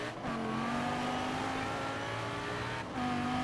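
Lamborghini Huracan engine in Forza Horizon 4, racing: a loud, sustained engine note holds steady, dips briefly as if shifting, then climbs again, with no talk.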